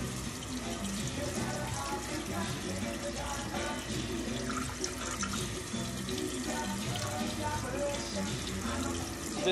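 Running water pours steadily into a kitchen sink as canned pasta is drained, a continuous, even splashing rush that stays constant throughout with no gaps.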